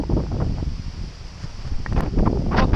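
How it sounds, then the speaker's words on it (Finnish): Strong wind buffets the microphone in low rumbling gusts while fishing outdoors, rising and falling throughout, with faint rustling on top. "ulkona on aika kova tuuli"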